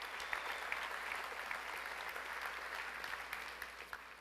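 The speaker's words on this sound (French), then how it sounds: "Je pense qu'on peut leur donner une bonne applaudissement" Guests at the mayor's supper in Victoriaville give quiet, sustained applause, a faint, even patter of clapping that thins slightly toward the end.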